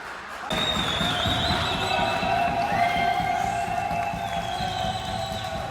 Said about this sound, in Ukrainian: Це всі овації для Дмитра Швеця.